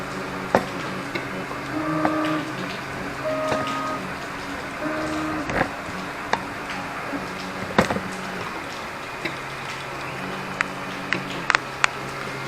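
An Anet A8 3D printer runs through a print job, its stepper motors giving off short whining tones and buzzy movements broken by small clicks and ticks, fairly quiet and close, with no talking.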